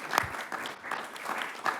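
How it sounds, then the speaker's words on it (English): A small group applauds a newly elected mayor at an extraordinary meeting of Nillumbik Shire Council, with soft, sparse claps that come in uneven bursts and fade in and out, fairly quiet and without a full roar. "Round of applause for Councillor Jemerick."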